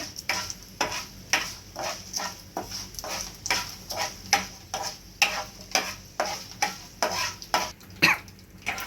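Dry chillies being roasted in a pan until darkened, for a drumstick leaf powder, with a steady rhythmic scrape of stirring about twice a second over a faint crackle, close and fairly quiet, no voices.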